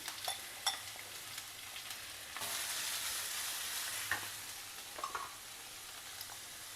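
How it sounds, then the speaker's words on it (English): Grated yellow pumpkin dropped into a pan of oil with mustard seeds and chopped green chillies, a close steady sizzle that swells louder partway through, with light crackles and stirring scrapes, no talking. "Now add in this grated yellow pumpkin."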